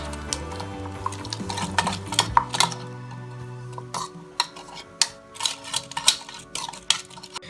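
Spoon stirring chocolate syrup made with honey and butter in a pan or bowl, giving a steady low scraping whirl at first, then sharp clinking taps of utensil against the dish scattered through the rest.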